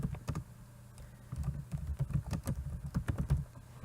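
Typing on a computer keyboard to enter a public library's name in a search box: a quick, uneven run of close key clicks with short pauses, alone and without voices.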